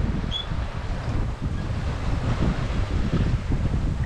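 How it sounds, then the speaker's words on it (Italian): Steady wind rushes over the microphone on a sailboat running downwind at sea, with a continuous low roar and the wash of moderate waves, loud and unbroken, no speech. "c'è un po' d'onda provocata da questo vento che arriva da dietro"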